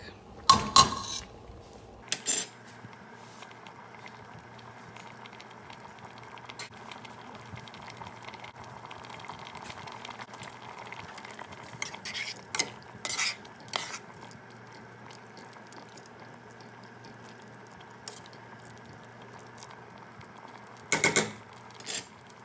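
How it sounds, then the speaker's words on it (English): Noodles stirred in a pot, scattered clinks and scrapes of a utensil against the pot with wet sloshing between, faint and intermittent, with louder knocks near the start and end. "Make sure you stir your noodles often."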